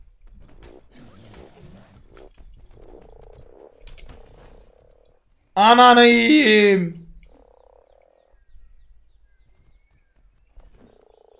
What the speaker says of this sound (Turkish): Onun bu kurbağada bir dil var var ya böyle bı bı yapıyor böyle üf.